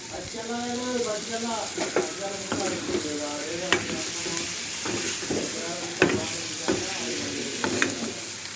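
Chicken curry with curry leaves and chicken masala sizzles in a pan, a steady frying hiss broken by sharp clinks of stirring, with a faint tonal hum running underneath.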